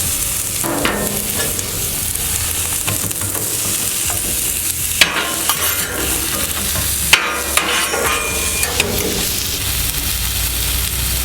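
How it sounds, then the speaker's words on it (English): Loud, steady sizzling of beef and onions frying on a hot Blackstone griddle, with occasional scraping and stirring clanks from a spatula. "I love that sizzle."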